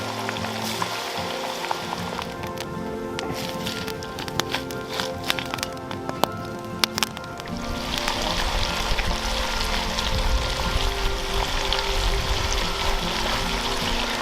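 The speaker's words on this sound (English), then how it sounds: "Got the Dutch oven going with French fries" Homemade French fries frying in hot oil in a Dutch oven outdoors, a steady, dense sizzling hiss that swells louder partway through and continues without pause, with a few sharp crackles and pops early on.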